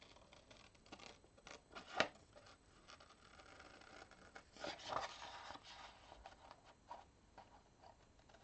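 Scissors snip through paper while a small Saturn shape is cut out, giving soft scattered cuts with two crisper snips, quiet and close with no talk.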